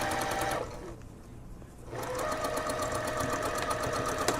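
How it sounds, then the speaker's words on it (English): A sewing machine runs steadily up close while stitching a puffy sleeve, with a rapid rhythmic needle patter. It pauses briefly, then resumes at a constant pace. "start sewing the other side"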